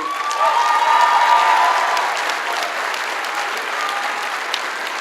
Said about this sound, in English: How about a round of applause for them, please?